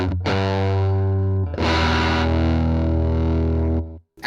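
An electric guitar runs through a Danelectro Vintage Series rotary pedal, ringing out two distorted, swirling chords with a warbling rotary shimmer, loud and alone before cutting off.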